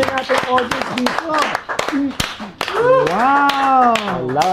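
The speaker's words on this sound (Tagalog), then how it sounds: "Palakpak kayo lahat!" An audience claps at a live cafe event, with scattered sharp claps under loud, animated voices that talk and call out across the room.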